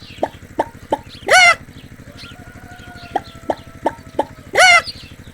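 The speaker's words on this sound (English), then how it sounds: "I'm a chicken, clucking proudly all around." Chicken clucking in a farm animal guessing game for kids, short sharp clucks in two rhythmic bursts, each ending in a louder squawking call, over a steady low pulsing background beat.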